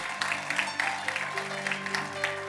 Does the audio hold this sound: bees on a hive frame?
no